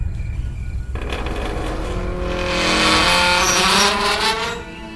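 A car approaches an iron gate at a mansion late at night, its engine swelling from a low rumble into a loud, close rush with a sharp whine that peaks and then eases.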